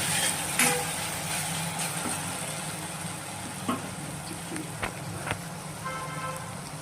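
Chicken pieces go into a pan of soft-cooked tomatoes for a chicken gravy curry, giving a steady broadband sizzle and hiss with a few sharp clinks and taps from stirring.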